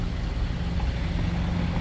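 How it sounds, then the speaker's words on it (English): Supercharged Range Rover exhaust at idle, a steady low rumble that holds even and continuous throughout, moderately quiet with no talk. "You can hear the exhaust a little bit"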